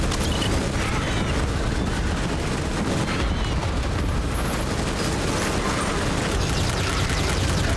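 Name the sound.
machine gun fire in the video game Starship Troopers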